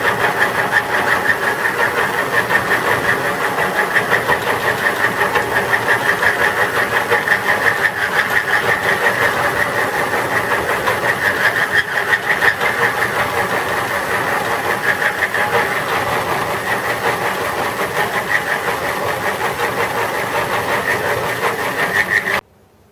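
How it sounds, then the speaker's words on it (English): Steady machining of metal T-nuts on a metalworking machine, a continuous loud whirring grind with faint rhythmic knocking, running close and unbroken before stopping abruptly at the end. "I've actually started feeding a little bit faster halfway through. Metal's coming off just beautifully."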